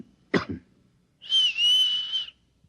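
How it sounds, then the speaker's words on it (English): In a 1956 NBC radio drama, a man gives two short coughs as a signal, answered after a pause by a single sustained whistle, both close and clear against near silence. "Look, I'll cough twice, like this. And you whistle back."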